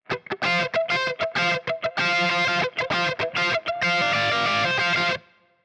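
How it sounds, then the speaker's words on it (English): Overdriven electric guitar through a Fractal amp modeler plays a rhythmic part of clipped, gritty chord stabs leading into a longer sustained crunchy chord that cuts off, loud and without talk. "As opposed to our overdrive sound."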